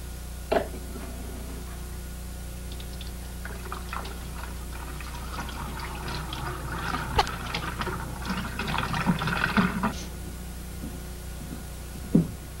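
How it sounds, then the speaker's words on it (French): Sterile water runs and splashes over beer bottle caps in a small container during home brewing. The trickling and dripping stays steady and close, grows busier in the middle, and a couple of sharp clinks of metal are heard, with no voice. "Une fois stérilisées au sulfite, rincez les capsules à l'eau stérile."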